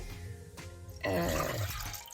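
About 200 ml of vinegar being poured into a clay pot, a brief low rumble followed by a louder splashing pour that runs for about a second.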